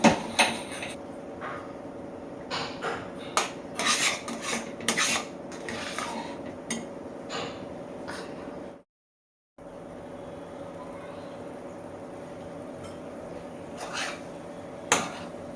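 Aloo halwa stirred and scraped in a pan until the oil separates, giving repeated rasping strokes and metallic clinks from the spoon, close up over a steady background hum, with a brief cut to silence midway.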